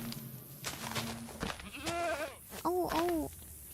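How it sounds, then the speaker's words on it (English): Minecraft goat bleats in a few loud, wavering calls near the end, each a short quavering cry over soft game ambience with scattered clicks. "Is that a goat? Is that a freaking goat that I hear?"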